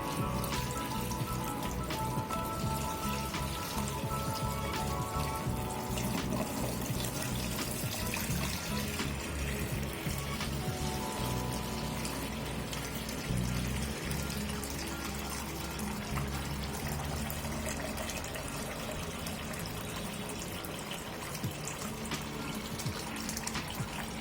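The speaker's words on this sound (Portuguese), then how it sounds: "Porque tem que encher de água por dentro, senão vai boiar, né?" Water poured steadily into a small 8-litre planted aquarium setup, a continuous splashing and trickling stream that runs loud and unbroken throughout with no talk.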